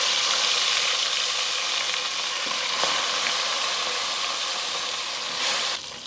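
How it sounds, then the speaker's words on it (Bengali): Koi fish sizzling in hot oil in a wok, a steady dense frying hiss filling the whole stretch with faint crackles, loud and close, no talk. "তেল গরম হয়ে গেছে, মাছগুলো দিয়ে দিচ্ছি।"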